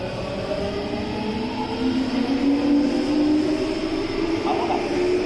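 A Tokyu 5000 series electric train runs with a steady rolling rumble and a rising motor whine, loud and close, continuing throughout.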